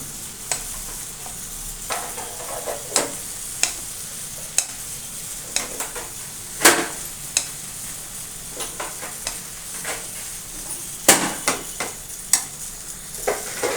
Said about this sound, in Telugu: ఇట్లా మగ్గుతూ ఉండాలి అది వేగాలి